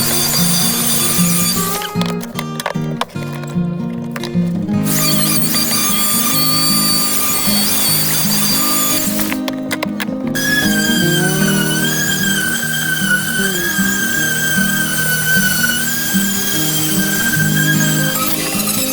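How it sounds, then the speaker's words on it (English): A router rounds over the edge of a small wooden kitchen shelf, a loud high-pitched whine running almost continuously with two short pauses, alone without talk. "I use my router to put a smooth rounded edge on one side of my 3 smaller shelves."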